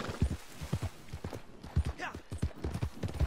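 Horse hooves clip-clop in steady rhythmic beats across the ground in the video game Red Dead Online, near and clear over a low background mix, during a bounty-hunting ride.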